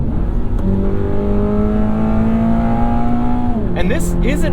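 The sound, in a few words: 2023 Toyota GR86 automatic engine revving in track mode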